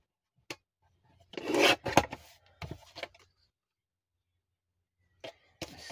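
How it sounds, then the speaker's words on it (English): Paper tag edges being trimmed, a few close scraping and rasping cuts, one longer stretch in the middle, separated by quiet gaps and a couple of sharp snips at the end. "I'm going to just trim a little bit off each edge."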